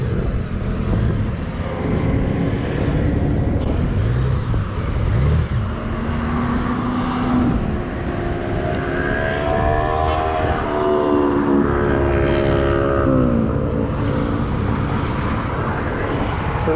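A 2019 Honda Goldwing DCT motorcycle on the move gives a loud, steady engine drone whose pitch climbs and resets repeatedly as the dual-clutch gearbox shifts, with wind rush underneath.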